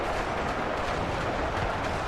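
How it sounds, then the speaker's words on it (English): Dense, continuous roar of massed battlefield gunfire and artillery from Ultimate Epic Battle Simulator 2, loud and unbroken throughout, with individual shots blurring into a steady wash. "especially with all the gunfire going off. I know it can get quite loud in this game."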